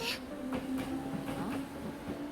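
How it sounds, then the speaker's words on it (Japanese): A train arrives at a station with a low, steady rumble and a faint whine, soft and somewhat distant, with a few light clanks and no talk over it. "電車来んぞ。"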